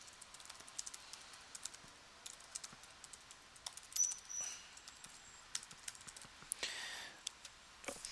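Fingers tap out C++ boilerplate code in the vim editor on a computer keyboard, giving fairly quiet, close, uneven keystroke clicks that come in quick runs and brief bursts.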